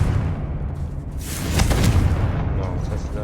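Confringo spell explosion in Hogwarts Legacy, a single booming burst with a crackling fiery tail that rises over a low rumbling game background, with a voice speaking around it.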